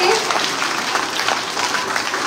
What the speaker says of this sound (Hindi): तो जोरदार तालियां इनके लिए,